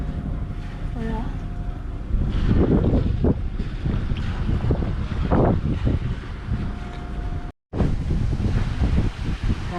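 A sailboat motors along under engine in gusty wind, with a low steady engine drone, buffeting wind noise across the microphone and splashing water; a voice speaks briefly near the start, and there is a short dropout near the end.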